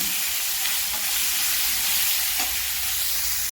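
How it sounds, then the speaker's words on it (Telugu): Tomato pieces sizzle in a frying pan while cooking an aloo masala curry, producing a steady, close, hissing crackle that continues evenly and cuts off abruptly at the end. "ఇప్పుడు మనము టమోటా ముక్కల్ని ఇందులో వేసేయాలి వేసి బాగా వేసుకోవాలి"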